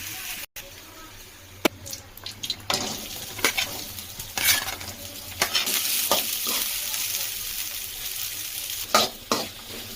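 Okra sizzles steadily in a hot pan while a utensil stirs and scrapes, with sharp clinks and bursts of louder frying throughout.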